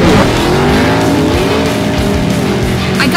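Cartoon race cars accelerate in a loud, continuous roar, engine pitch sweeping as tires squeal briefly.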